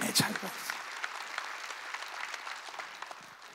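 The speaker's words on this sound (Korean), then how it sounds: "박수야" A church congregation claps during a sermon, a continuous patter of many hands that starts brisk and slowly thins out, heard fairly close with a voice briefly at the start.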